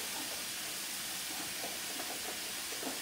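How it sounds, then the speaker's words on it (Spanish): Broad beans boiling in a pot of salted water, a steady broadband hiss with faint bubbling pops, continuous and fairly close. "lo vamos a poner a hervir con un poquito de agua y sal"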